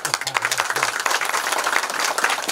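An audience at a school inauguration ceremony for a sanitary pad dispenser claps to welcome guests, with dense, steady applause filling the room and a voice speaking over it briefly near the start.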